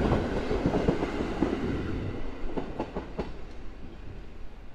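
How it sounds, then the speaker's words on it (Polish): The Kamieńczyk passenger train, with a dining car and a double-deck coach, pulls out of Szklarska Poręba Górna station, its loud rolling rumble and rhythmic wheel clacks steadily fading as it moves away. "Pociąg znika."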